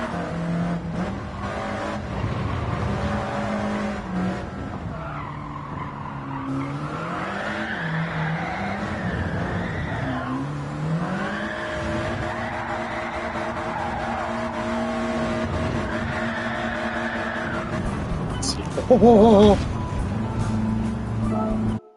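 A race car drifting in Gran Turismo 7, its engine droning loud and steady throughout, rising and falling with throttle changes, with a brief sharp tire squeal near the end.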